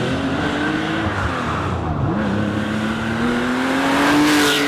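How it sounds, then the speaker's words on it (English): A Porsche 911 Carrera 2.7 RS with a sport exhaust, its flat-six engine droning steadily as it drives past with rising and falling pitch, fairly loud and close, with no talking. "My favorite part about the RS has got to be the sound of the motor,"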